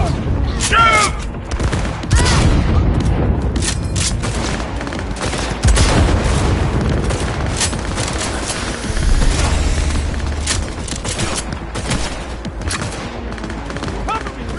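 Gunfight in Cyberpunk 2077 with dense, continuous automatic fire and booming shots crackling through a chaotic firefight, loud and close, with voices calling out amid the shooting.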